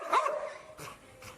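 A single sharp dog bark, close and loud, followed by fainter breathy sounds.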